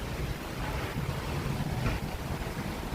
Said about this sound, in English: It is just pouring.